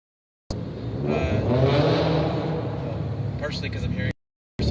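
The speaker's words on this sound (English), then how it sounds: "partially because I'm hearing a motorcycle" A motorcycle engine revs loudly and roughly nearby during a press conference, a steady throaty roar that starts suddenly and cuts off, with voices faintly underneath.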